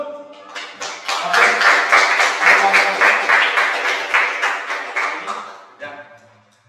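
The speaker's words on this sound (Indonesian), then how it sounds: "kasih aplaus dulu dong." A classroom group is applauded as it comes forward to present, with dense clapping from many hands that rises fast, holds steady for about four seconds, then thins out. A brief spoken word comes just before it.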